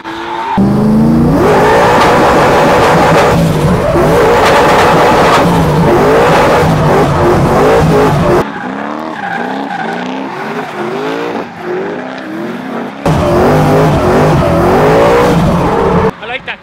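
900bhp Ford Mustang drifting on track, its engine revving hard with loud tire squeal and wavering pitch, a brief lull midway before the full roar returns; a voice shouts over it.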